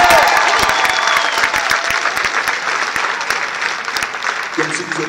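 A live audience at a French-language stand-up comedy show claps loudly and steadily, dense applause filling the full five seconds without letting up.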